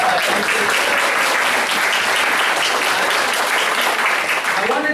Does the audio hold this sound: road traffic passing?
no